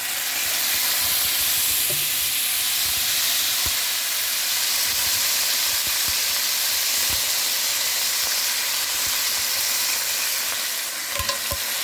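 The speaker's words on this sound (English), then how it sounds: "A little white wine in there." White wine hits a hot pot of baccalà for zuppa di pesce, giving a steady, loud sizzle and hiss that fills the whole stretch with a few faint clinks underneath.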